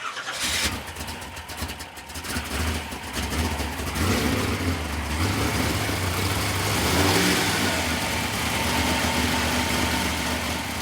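A small nitro or gas RC car engine, its carburetor just adjusted, runs at high altitude and revs loudly and steadily up close, with rising and falling throttle surges throughout and no talking.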